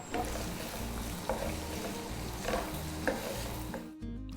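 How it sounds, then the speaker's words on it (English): Onions hit a pan for Memon masur pulao and fry with a steady, close sizzle, while a few soft stirring scrapes and clicks sound over it. The sizzle cuts off abruptly near the end. "I'm throwing the onions in."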